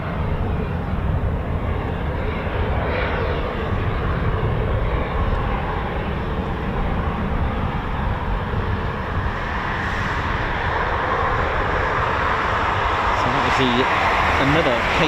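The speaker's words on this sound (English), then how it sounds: "Another KC-135 from the 6th Air Refueling wing." US Air Force KC-135 refueling aircraft from the 6th Air Refueling Wing, a continuous loud jet engine rumble and roar that stays steady throughout.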